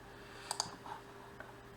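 A computer mouse gives a couple of faint, sharp right-clicks in a quiet room, followed by one softer click a moment later.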